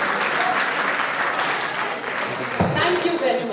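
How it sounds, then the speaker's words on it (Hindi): Audience applause for a live band at a defence academy celebration, a loud, continuous crowd clapping that fills the space, with a raised voice cutting through near the end. "एक बार मैं चाहती हूँ जोरदार और दमदार तालियां हो जाएं"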